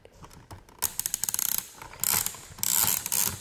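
Motor and gears of a custom toy train engine running up close, giving a rapid ratcheting clatter in short bursts with brief whirring gaps between them.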